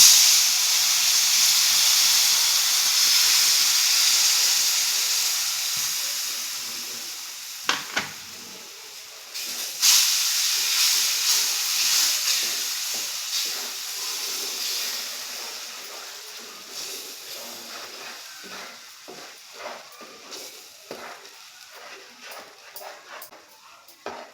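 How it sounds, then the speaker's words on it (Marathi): Milk poured into hot roasted semolina in a kadhai for a Nag Panchami offering gives a loud, steady steaming hiss and sizzle that slowly fades, with a few faint utensil clinks and no talk. "आता त्यामध्ये आपण दूध टाकून घेऊ।"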